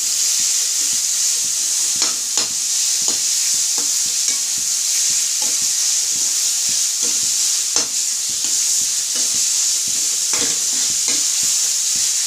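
Three or four onions sautéing toward golden brown for chicken gravy, a steady close sizzle with repeated scraping stir strokes throughout, loud and without talk.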